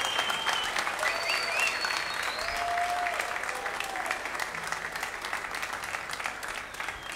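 Sustained, loud applause from a live concert crowd welcoming a new member of a band, steady dense clapping for the full stretch with faint voices and whistles mixed in.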